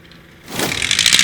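A STOL aircraft engine surging to full throttle for takeoff at a Swamp STOL competition, rising from quiet into a loud, rough, snarling roar that holds steady to the end.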